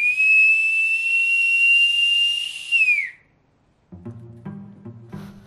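A piercing, sustained two-finger taxi whistle blasts loud and steady for about three seconds, then drops off sharply, followed by quieter low thumps and knocks.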